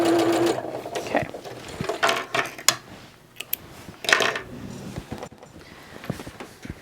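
A sewing machine stitches a zipper onto a fabric seam allowance in short, loud bursts of rapid mechanical whirring, separated by pauses filled with clicks and handling noises of fabric and tools close by.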